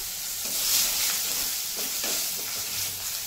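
Four crushed garlic cloves and two bay leaves fry in oil in a pan, a continuous bright sizzle with faint stirring scrapes, close and steady with no talking.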